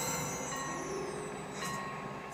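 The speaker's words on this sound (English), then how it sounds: "Why does it make a train sound?" A rumbling train sound effect played by a card in a Clash Royale–style card battle game, a steady low rolling rush with faint higher squeals, moderately quiet and continuous.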